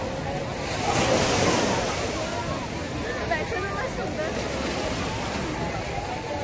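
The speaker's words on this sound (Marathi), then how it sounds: "तर पाण्याची याला भरती वाढत चालली" Steady rush of ocean surf washing in at rising tide on Juhu Beach, Mumbai, at night, a continuous broad roar with some wind noise and faint voices underneath.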